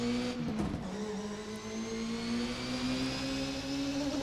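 VRC Formula NA 1999 race car engine droning steadily as it pulls out into the pit lane, a brief rough burst near the start and then a smooth, slowly rising tone, close and continuous, no talk.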